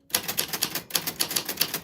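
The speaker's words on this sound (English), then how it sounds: "That is how your name sounds on a vintage typewriter." A vintage typewriter typing out a name: a quick run of crisp mechanical key strikes, close and fairly loud, with one brief pause partway through.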